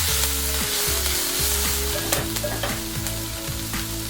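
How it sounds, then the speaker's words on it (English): Chopped garlic sizzles in oil in a cast iron Dutch oven, a constant close crackling fry heard under steady background music with a rhythmic beat, with no talking. "we're going to cook this garlic for about 1 minute."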